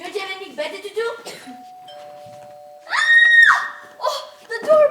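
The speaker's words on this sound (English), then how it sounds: "Oh, the doorbell." Doorbell chime in a murder-mystery mansion game, a clear two-tone ring sounding alone between bursts of animated character voices and chatter.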